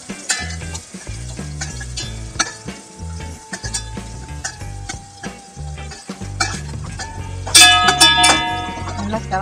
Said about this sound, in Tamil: இப்ப வந்து வெங்காயம் நல்லா செவக்கணும்.